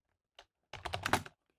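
Computer keyboard typing at close range: a lone keystroke, then a quick, dense burst of clacking keys, crisp and clear against silence.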